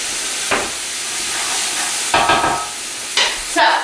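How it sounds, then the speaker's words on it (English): Vegetables sweating in a pot as they are given a quick stir, a loud continuous hiss of frying with three or four scraping strokes rising above it, close by and with no voices. "Give that a quick stir, and then I'm going to throw that right back on the stove."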